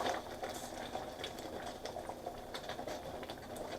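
Green chile sauce for pork tamales starting to boil in a pot, giving a soft, steady bubbling and fizzing that stays faint and continuous throughout.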